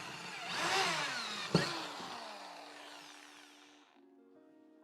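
A power drill bores into a wall while hanging plants for a living wall, a faint whirring run with one sharp knock partway through before the motor winds down and fades out.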